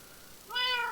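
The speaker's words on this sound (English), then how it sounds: "Cat, come over here." A single short cat meow from the video game Minecraft, clear and alone.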